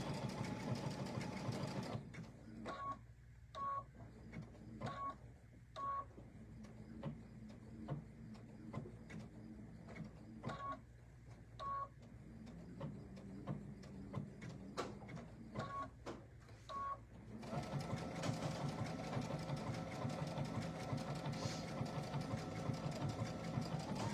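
A sewing machine stitches a quilt pattern in steady runs of fast mechanical whirring, close and moderately loud, broken by brief pauses with soft beeps, before the stitching resumes at the end.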